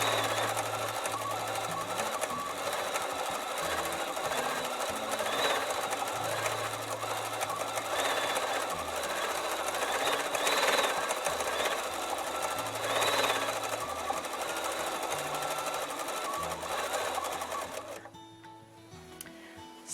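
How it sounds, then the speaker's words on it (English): A B880 sewing machine stitches steadily at small stitch length while micro stippling tight circles and curves, a continuous close mechanical whirr with shifting hum, stopping near the end. "Now I'm going to change my stitch size to make the stitches a little bit smaller so I can do some micro stippling"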